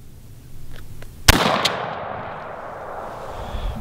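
A Knight TK 2000 muzzleloader shotgun fires a single sharp, loud blast at an outdoor range, followed by a brief echo and a lingering rumble that fades over a few seconds.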